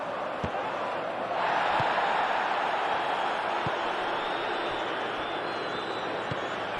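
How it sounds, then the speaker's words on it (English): A stadium crowd roars steadily during an Inter vs Roma football match in the video game PES 2021. The broad wash of cheering swells briefly and stays loud throughout, with a few faint thuds. "the crowd clearly like what they just saw"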